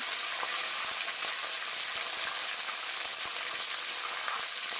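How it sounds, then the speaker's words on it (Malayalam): Curry leaves crackle and sizzle in hot oil after mustard seeds have popped, a dense steady hiss peppered with sharp little pops. "കടുക് പൊട്ടി കഴിഞ്ഞ് കറിവേപ്പില കഴുകി ഇട്ടേക്കാണ്"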